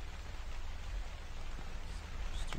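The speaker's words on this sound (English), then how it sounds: "That didn't scare me. It's rain." Rain falls steadily in the horror game The Convenience Store, a dense, even hiss that holds for a couple of seconds without any talking.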